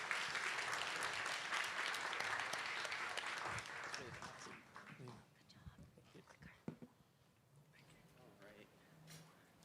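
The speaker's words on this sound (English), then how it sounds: "Round of applause for SOS Carbon." An audience at a startup pilot showcase gives a round of applause for the company SOS Carbon, dense clapping for about four seconds that then thins into scattered claps and murmuring.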